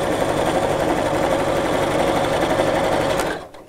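A sewing machine stitches rows of shirring elastic on a child's dress, a fast, steady whirring hum running continuously before stopping abruptly near the end.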